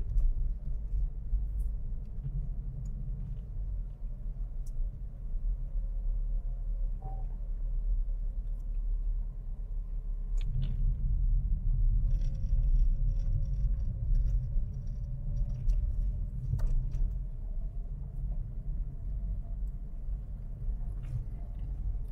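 A Toyota Vios Limo rolls along medium asphalt at around 40 km/h, its tire road noise a steady low rumble heard from inside the cabin, with faint occasional ticks and clicks over it.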